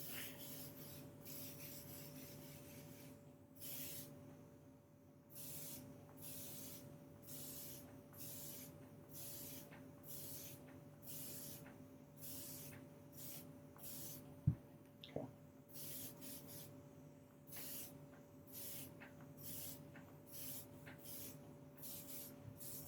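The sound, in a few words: airbrush spraying paint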